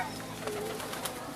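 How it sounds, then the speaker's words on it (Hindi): Pigeons coo softly at Ayub National Park, their low murmurs faint beneath steady outdoor background noise across a short stretch. "ये है जी पिजन्स, कबूतर हैं यहाँ पे।"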